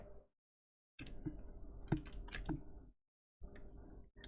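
Close, quiet keystrokes on a computer keyboard come in short bursts of typing with brief silences between, including a firmer single key press.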